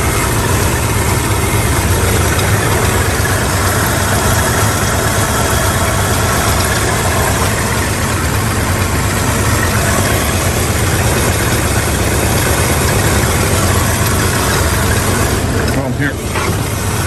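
An original C-code muscle car engine idles loudly and steadily, a close, constant low rumble running without a break until a brief dip near the end.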